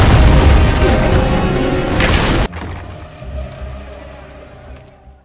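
A building explodes and collapses in the film Spectre (2015): a loud, roaring explosion rumbles heavily for a couple of seconds, then cuts off abruptly, leaving a quieter low rumble and faint sounds.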